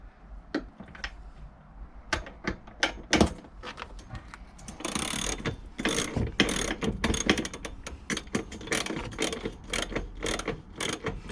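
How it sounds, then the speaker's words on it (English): Socket set ratchet fitted with a 19mm socket loosening the bolts of a passenger seat in a van conversion: rapid clicking ratchet bursts and metallic clanks, close and fairly loud, repeating in dense runs throughout. "I'm using a 19mm bit, which we didn't have, and I've just borrowed from a neighbour up the road who kindly lent us his socket set"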